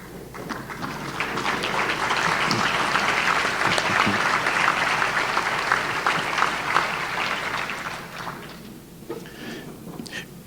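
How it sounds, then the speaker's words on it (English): Short round of audience applause at a Chamber of Commerce monthly luncheon, clapping swelling up, holding steady for several seconds, then thinning out into scattered claps. "if we'll give them just a short hand of applause"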